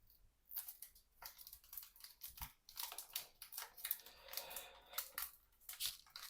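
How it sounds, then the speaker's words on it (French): A sports card pack of Panini cards is torn open by hand, giving a run of close, crinkly ripping and crumpling bursts that continue irregularly throughout, with no talk. "Mais il faut ouvrir le paquet déjà."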